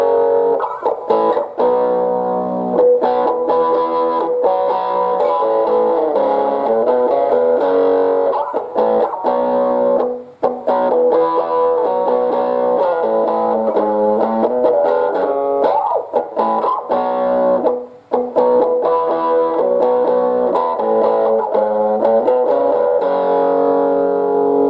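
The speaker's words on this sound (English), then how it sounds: "So that's the distortion. That's how the distortion sounds." Electric guitar played through a POCKAMP portable guitar amplifier on its distortion setting, a sustained run of driven chords and notes with brief gaps, loud and alone with no talking.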